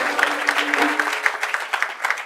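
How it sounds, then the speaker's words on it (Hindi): A gathering at a morning aarti discourse claps in thanks, a steady, moderately loud burst of many hands with a few sharper individual claps standing out. "पीयूष जी का तालियां बजा के धन्यवाद करो"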